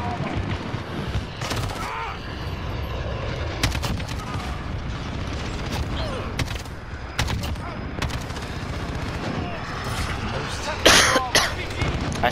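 Game gunfire from Call of Duty, a string of sharp shots and bursts cracking through the whole stretch, loud and close, with a person talking over much of it.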